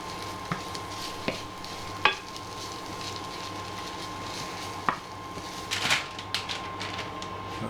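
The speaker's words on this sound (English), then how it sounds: "And just stir that in" Seasoning is stirred into minced beef in a pan over a steady low sizzle, with occasional spoon clicks and scrapes against the pan, close and alone without talk.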